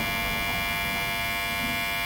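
A Kemei KM-1995 hair clipper runs in turbo mode with a steady, unbroken electric hum, close and constant, no voices.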